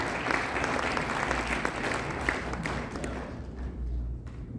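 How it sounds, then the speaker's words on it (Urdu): An audience applauding at an Urdu poetry mushaira during a Sir Syed Day 2024 event, with dense, sustained clapping from a large crowd filling the hall before slowly thinning out toward the end. "تالی بجائیے"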